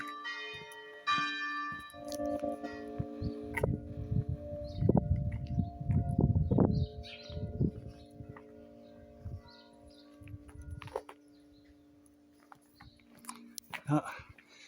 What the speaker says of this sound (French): Accueilli avec les cloches.